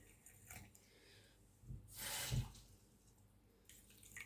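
Water is poured onto three teaspoons of chia seeds for a pineapple and apple juice: a short, soft splash and trickle lasting about half a second amid quiet kitchen stillness, with no talking.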